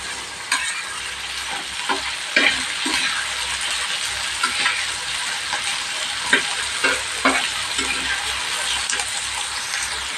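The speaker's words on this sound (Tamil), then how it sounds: "இதை கொஞ்சம் நேரம் நல்லா நம்ம வதக்கி விடலாம்." Small prawns sautéing in oil in a pan for a Tamil prawn fry, a steady broadband sizzle with scattered scrapes and clinks from stirring, close and fairly loud, with no talk.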